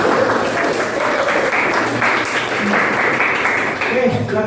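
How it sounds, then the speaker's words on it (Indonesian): Students clap together in a computer networking business class, with a dense burst of applause mixed with voices and room noise at steady loudness. "Oke, tepuk tangan plus."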